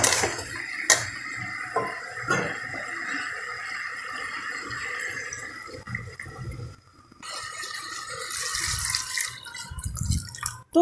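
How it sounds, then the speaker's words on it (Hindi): Water pours steadily into a pan of fried paneer for matar paneer gravy with a splashing, running flow, broken by a few sharp metallic clinks near the start. "और अब हम पानी डालेंगे।"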